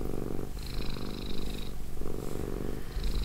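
A stressed house cat purrs close up in a steady rumbling cycle, its rhythmic inhale and exhale pulses repeating about every second with no talk.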